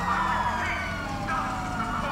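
A police car siren in GTA V Online warbles faintly through a noisy background, its tone wavering over a couple of seconds.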